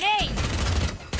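A Raze grenade blast in the shooter game Valorant: a short voiced game callout opens, then a loud rumbling burst with crackling debris that fades and flares again at the end.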